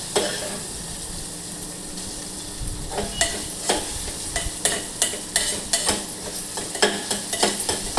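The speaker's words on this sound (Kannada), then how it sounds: "ವೆಜಿಟೇಬಲ್ ಬೆಂದಿದ್ದನ್ನೆಲ್ಲ ಫ್ರೈ ಆಗುತ್ತೆ ಅಂತ ನೋಡ್ತಾ ಇರಬೇಕು" Onion, tomato, green chilies and vegetables frying in oil in a pan, with a spoon repeatedly stirring and scraping: steady close sizzle under irregular clacks of utensil against the pan.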